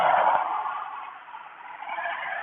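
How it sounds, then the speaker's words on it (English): Steady engine and air-conditioning drone inside a parked car, a band-limited rumble and hiss holding evenly for a few seconds with no talking. "I'm going to have to let y'all get some of this car noise"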